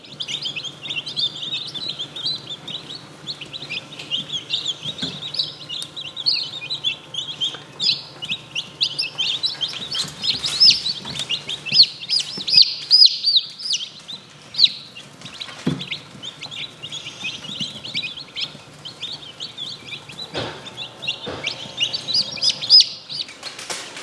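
Baby chicks peep continuously in a brooder, a dense high chorus of chirps swelling and fading, close by, with occasional soft knocks and no talk.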